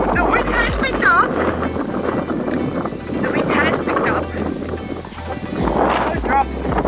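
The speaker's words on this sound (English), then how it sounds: "The wind has picked up." Strong wind gusts rumble continuously over the microphone on an open east-coast beach in a nature reserve, while a person talks and faint bird calls sound intermittently.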